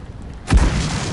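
A single heavy tank cannon shot in the World of Tanks game during a historical battle, a sudden loud boom about halfway through after a quiet stretch, followed by a short rumbling tail.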